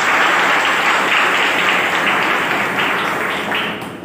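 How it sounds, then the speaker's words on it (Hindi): A large crowd at a motivational talk applauds loudly and continuously, a dense wash of clapping that holds steady before easing slightly at the end. "अगर सहमत हो तो तालियां जरूर बजाते रहिए।"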